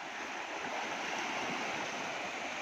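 The flooded Sutlej river, swollen by inflow from the Swan river, roars in a steady, dense rush of water that fills the whole moment without letup, close and loud with no voices.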